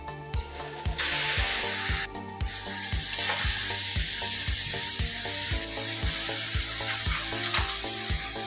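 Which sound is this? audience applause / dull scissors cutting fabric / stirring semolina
stirring semolina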